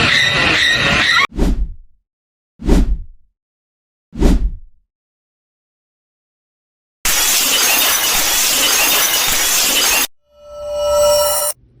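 Glass shatters loudly, then three separate sharp crashes ring out with silence between them, followed by a long noisy burst and a brief whooshing sweep.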